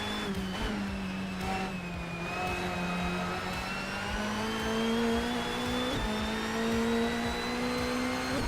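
A racing car engine in a Volvo S60R driving simulator drones steadily at high revs, its pitch slowly climbing and dipping with brief shifts, loud and continuous with no talking.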